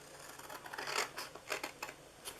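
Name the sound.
cutting squares off paper for a treat box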